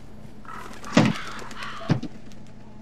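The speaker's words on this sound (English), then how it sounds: "I know it's just birds" Crows caw in the eerie video game Husk, two sharp calls about a second apart that cut through a low, steady ambient hum.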